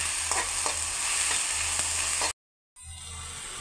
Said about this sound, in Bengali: এবার মিশিয়ে নেব রসুন, পেঁয়াজ, কাঁচামরিচের সাথে তেলটা ভালো করে মিশিয়ে নেব।